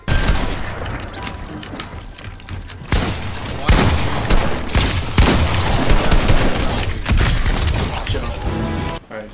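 Rapid bursts of gray assault rifle fire in Fortnite ring out in close, loud volleys with sharp impacts and crashes between them, while a voice talks over parts of the action.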